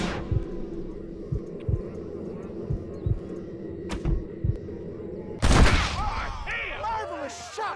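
Gunshots ring out in a Western-style video game shootout: a steady series of sharp, evenly spaced cracks over a low hum, then a louder burst near the end as voices and other game sounds rise.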